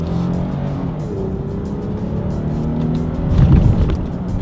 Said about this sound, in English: do a quick little paddle shifter test first to see how quickly these paddle shifters react